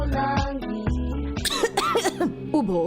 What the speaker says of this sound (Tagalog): Ubo, plemang nakabara, hirap sa paghinga.